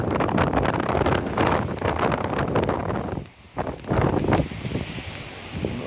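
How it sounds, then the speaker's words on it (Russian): Strong, cold north wind on a beach buffets the microphone in loud, roaring gusts, briefly dropping off for a moment before blasting back in. "сегодня сильный холодный ветер северный"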